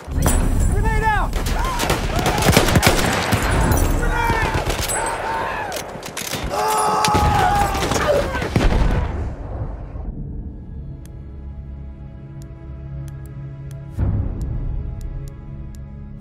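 Gunfire and a grenade blast in a Battlefield 1 Conquest multiplayer battle: dense, loud bursts of shots and explosions for about nine seconds, then a quieter stretch with a sharp single bang near the end.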